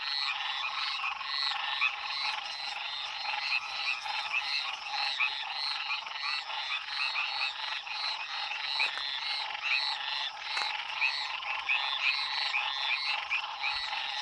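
Dense chorus of frogs croaking at night on the edge of a lagoon in the rain, a steady, loud, continuous trill with no talking.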